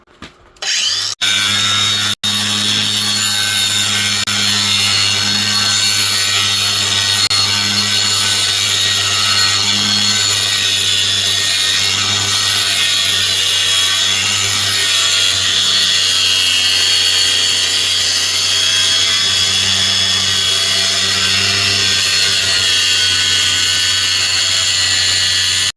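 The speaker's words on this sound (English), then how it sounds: "We're going to go ahead and grind some down, get a flat surface." A power grinder works a metal snow plow part clamped in a vise, starting with a sharp rise and then whining at a steady high pitch with an even hum beneath, loud and continuous for the whole stretch.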